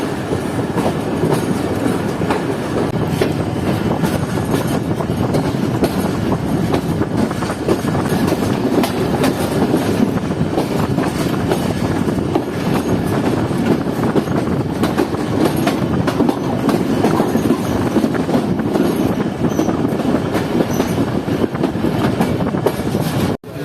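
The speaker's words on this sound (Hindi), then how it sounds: "लूप चढ़कर मेन पर लगते हुए ट्रेन" Fareed Express passenger train rolling from a loop line onto the main line, a continuous loud rumble with rhythmic wheel clatter over rail joints and faint squeals, heard from on board with no talk.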